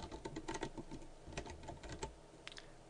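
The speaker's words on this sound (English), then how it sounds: "type in the new text" Fingers type in quick, uneven bursts of light clicks on a computer keyboard, close but quiet, with brief pauses between runs of keystrokes.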